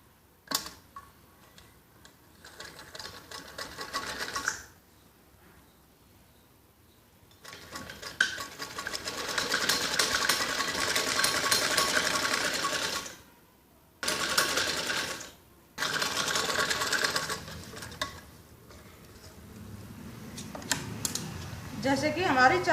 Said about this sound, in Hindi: ऐसे ऊपर की साइड चारों पट्टी की पाइपिंग को ऐसे ही सिलाई लगानी होती है।